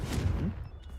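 The Confringo spell cast in the Hogwarts Legacy video game lands as a short, booming blast that rumbles and fades within about a second, loud and with no talking.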